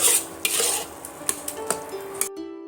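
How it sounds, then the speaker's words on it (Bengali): A spiced mixture being stir-fried in oil in a kadai for aloo katli, with close, loud sizzling, repeated scraping strokes and utensil clinks, then a sudden cutoff near the end. "আবারও আমি এইভাবে কিছুক্ষণের জন্য কষিয়ে নেব"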